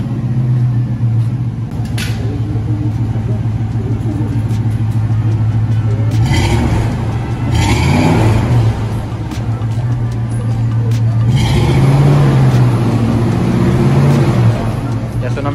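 Chevrolet Silverado pickup fitted with a Flowmaster exhaust, rumbling steadily at idle close by and revved up a couple of times with a deep, throaty swell.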